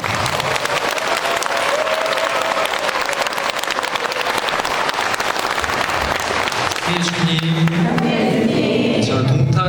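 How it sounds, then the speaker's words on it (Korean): Audience applause welcomes a Catholic parish priest arriving to give a catechism lecture: dense, steady clapping fills the room for about seven seconds, then thins out as other tonal sounds come in. "우리 이상원 바오로 신부님 박수로 환영해 주시기 바랍니다"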